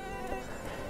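Thin, steady insect whine of a mosquito buzzing close by for under a second, with no other sounds around it.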